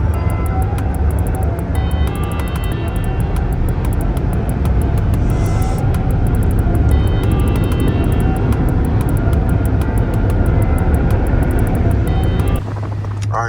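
Powerful automatic car wash blowers roar steadily over a Dodge Hellcat, a loud, close, continuous rushing drone with a faint rhythmic clicking on top, cutting back abruptly near the end.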